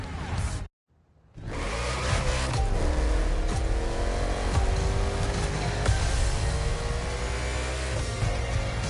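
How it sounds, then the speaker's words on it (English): Race cars roar off at the start of an urban street race in Hawaii, a brief silent gap giving way to a loud, sustained engine drone with rising revs and passing whooshes, no voices. "The green flag is in the air, and we are racing"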